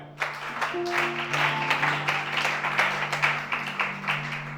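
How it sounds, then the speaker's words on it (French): Audience applause and clapping at a church service, steady and fairly loud for several seconds with a sustained tone running underneath. "Acclamez Shana."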